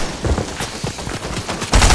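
Video game gunfire during a shooter match: a fast run of close, punchy shots in uneven bursts, ending with a louder, heavier blast.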